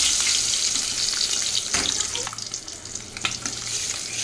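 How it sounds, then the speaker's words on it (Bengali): An egg frying in a pan, a bright continuous sizzle up close with a few scraping touches, fading a little toward the end. "এখানে ডিমটা ভেজে নিচ্ছি"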